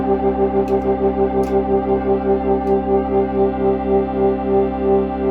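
A Crumar Sorrento organ tone swirls with a slow, regular pulsing wobble from the rotary speaker's lower rotor, the rotating throb gradually easing in pace.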